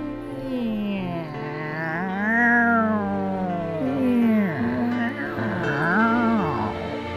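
A cat meows in long, drawn-out, wavering cries, close and clear, rising and falling in pitch across several calls with no talking.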